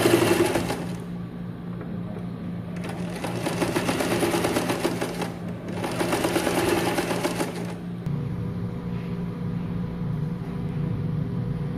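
Sewing machine stitching a shirt collar seam, running in steady mechanical bursts with brief pauses between runs, close and fairly loud, no talk.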